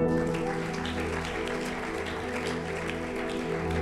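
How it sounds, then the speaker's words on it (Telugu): Congregation applauding during a Telugu Christian sermon, a steady wash of clapping sitting under a sustained musical drone or hum, fairly even in level throughout. "గట్టిగా చప్పట్లు కూడా."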